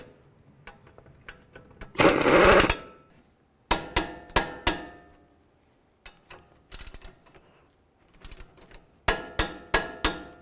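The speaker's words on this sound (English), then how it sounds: "torque each of these bolts to 130 foot-pounds" Brake caliper bracket bolts are tightened on a 2009-2018 Ram 1500, with bursts of loud power-tool rattling and ratcheting, then sharp clicks and clanks separated by brief pauses, recorded close up.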